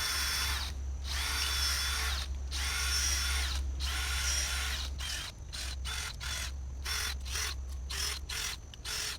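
A power drill bores planting holes in garden soil for garlic, running in long steady whirring bursts, then stopping and restarting in short rapid pulses near the end, loud and close with no talk.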